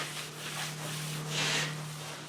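Steady rubbing scrubs dirt off an aluminium half door skin for a Land Rover Defender, a continuous close abrasive swish with a low steady hum beneath and a brief louder surge near the middle.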